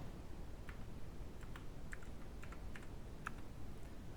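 Light keystrokes on a computer keyboard tap out a website address in a short, irregular burst of clicks, faint and close against a steady background hiss.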